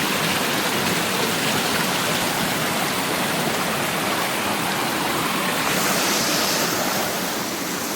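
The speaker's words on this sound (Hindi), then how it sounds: "पानी कितना भयंकर आ रहा है और पानी की कितना शुद्ध जल देखिए यहाँ पर बहता हुआ" Clean water arriving from a distance rushes loudly and continuously into a village water storage tank, a dense, unbroken roar with no voices.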